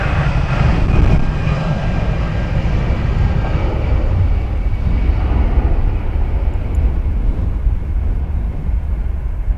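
Airliner on the runway at Dublin Airport, a loud broadband engine roar that holds steady throughout with a deep rumbling low end, heard from nearby.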